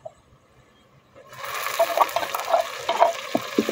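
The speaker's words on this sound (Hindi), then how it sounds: "अब इसको अच्छी तरह भून लेते हैं" After a quiet second, a masala with tomatoes starts sizzling in a pan as it is roasted and stirred, with close, moderately loud frying and occasional spoon scrapes.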